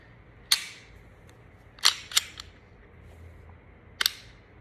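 A Zev pistol's slide snaps forward into battery, giving sharp metallic clacks: one at the start, a close pair near the middle and one more at the end, with a quiet room hum between them.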